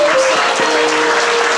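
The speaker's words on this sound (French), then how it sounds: "On applaudit plus fort le Seigneur" Steady applause from a church congregation, dense and continuous with a faint tonal hum or voice running underneath.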